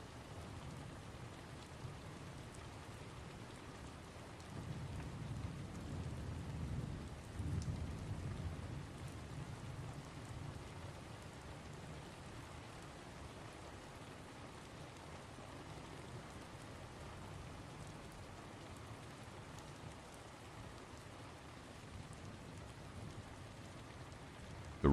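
Steady rainfall patters on surfaces with a low rumble of distant thunder swelling in the middle, faint and continuous throughout with no voices.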